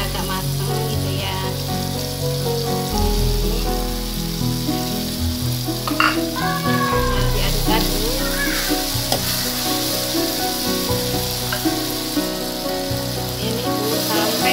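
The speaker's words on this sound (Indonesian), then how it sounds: "Udah kuning minyaknya, sekarang mau masukin udangnya ya" Small shrimp fry in hot, yellowed oil with a continuous loud sizzle and occasional scraping and stirring knocks, while background music plays throughout.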